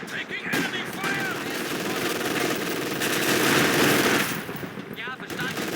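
Sustained machine gun fire in Company of Heroes 2, a World War II strategy game, rattling steadily for several seconds with chattering bursts, while in-game unit voices call out over the battle noise.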